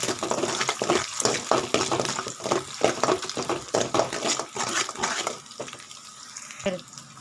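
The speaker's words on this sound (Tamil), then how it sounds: "ஸோ முட்டை வந்து ஊற்றினதும் இதை நல்லா மிக்ஸ் பண்ணி விட்டுருங்க" A spatula stirring two freshly poured eggs in a hot pan, with rapid scraping and sizzling strokes in a steady rhythm that fade near the end.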